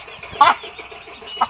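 A sick backyard hen with a limp, suspected coryza, gives two short, strained clucks a second apart, close and fairly loud against quiet background.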